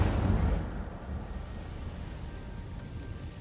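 An Incendio fire spell cast in Hogwarts Legacy, a loud whooshing burst at the start that fades into a rumbling, crackling roar lasting several seconds.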